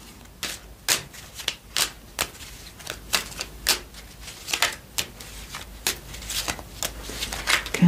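Oracle cards being shuffled by hand in a quiet room, a steady run of close, crisp riffling flutters and soft slaps repeating every half second or so, with no talking.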